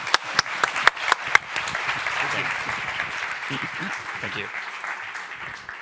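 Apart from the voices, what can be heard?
audience applause after debate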